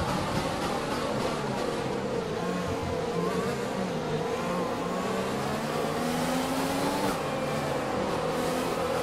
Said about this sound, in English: So Williams trying to slipstream us down the outside.